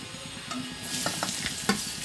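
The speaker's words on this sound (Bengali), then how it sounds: "ভাজা তেলে দিয়ে দিচ্ছি হচ্ছে 5 ফোড়ন, একটা শুকনো লঙ্কা, পেঁয়াজ কুচি" Mustard-oil tempering of five-spice, a dried red chilli and chopped onion sizzles in a pan after fried fish heads are removed, with stirring scrapes and a few sharp crackles over a steady hiss.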